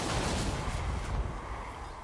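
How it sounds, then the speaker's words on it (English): Outrider handguns fire on Black Orcs during a Warhammer battle: a steady, dense low rumble of distant gunfire and battle noise, with no clearly separated individual shots. "Trying to get some shots into the Black Orcs on the their left flank"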